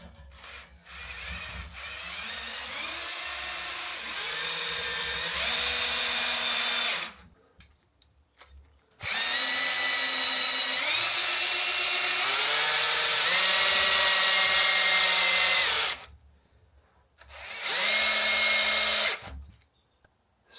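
Power drill twisting wire counterclockwise for a light ring, whirring in three long bursts with rising and falling pitch, separated by short pauses of silence.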